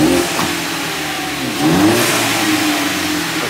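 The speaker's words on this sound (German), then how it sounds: "Nochmal kurz Gas." Car engine revving hard, a loud, steady mid-pitched roar that rises briefly in a blip of throttle and then holds, with no talking over it.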